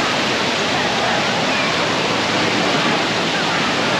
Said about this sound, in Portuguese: Começou a onda na praia.